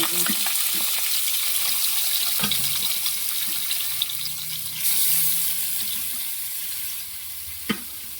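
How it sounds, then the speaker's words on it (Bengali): Meat pieces frying in hot oil in a home kitchen pan, a steady close sizzle running throughout with a few sharp clinks and stirring knocks. "প্রথমে তেল দিয়েছি, আর মাংসগুলো দিয়ে"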